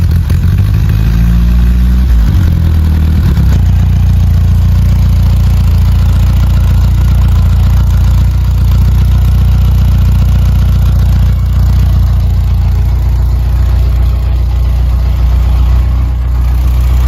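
A vintage Ace motorcycle engine idles, a loud, steady low rumble that holds evenly throughout, with a brief uneven stutter near the start.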